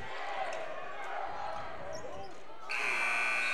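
A gym buzzer blares at the end of the first half of a high school basketball game, a loud sustained electronic tone cutting in over crowd noise and a commentator's voice.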